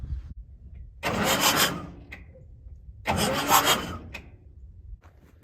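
An Allis Chalmers 7030 tractor's diesel engine cranks over on the starter in two separate bursts of grinding, chugging turnover, each lasting about a second, with quiet pauses in between and no talking.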